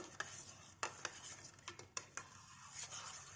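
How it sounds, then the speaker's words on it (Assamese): A homemade natural soap mixture with capsule gel added is stirred in a vessel, giving quiet irregular clinks and scrapes of a utensil against the container, close and faint, with no talking. "এতিয়া আমি অকণমান লৰাই থাকিব লাগিব"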